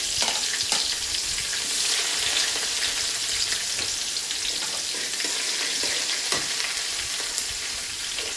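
Two or three garlic cloves fry in a hot pan, a loud, continuous bright sizzle that holds evenly throughout with only faint crackles, close up and without speech.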